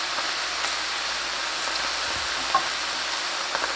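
Mushrooms searing in a dry pan with no oil or salt, giving a soft, steady sizzle that sits close and fairly quiet, with a faint tap or stir near the middle.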